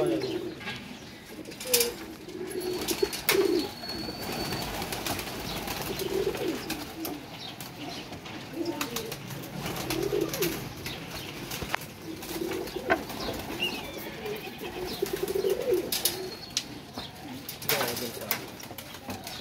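Competition flying pigeons coo in intermittent low, rolling calls, with occasional bursts of wing flapping and faint voices in the background at a loft.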